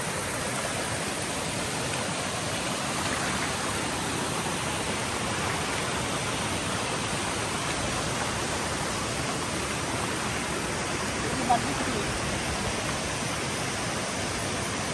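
Rushing water of a river or waterfall in the countryside, a constant broadband roar that stays loud and unbroken throughout, close by, with only a brief faint tick near the end.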